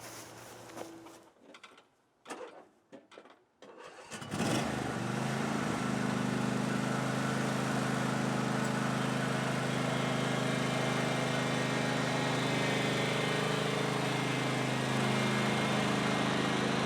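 A lawn tractor engine cranks a few times in short rough bursts, then catches and settles into a loud, steady running drone that continues without a break, heard up close outdoors.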